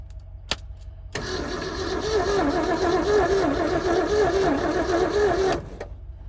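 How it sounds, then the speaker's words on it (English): The engine of an abandoned 1971 Ford F250 truck parked for 30 years is cranked by its starter, giving a steady rhythmic whirring churn for about four seconds without catching, after a couple of sharp clicks. "Yeah, I'll give it a little crank and see."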